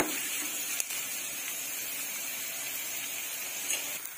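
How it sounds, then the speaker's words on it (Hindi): Onions and ginger frying in hot oil for a rustic home-style cauliflower gujhiya, a steady, fairly quiet broadband sizzle that holds evenly throughout with a couple of faint clicks. "हमने प्याज को ब्राउन कलर तक होने तक फ्राई कर लिया है।"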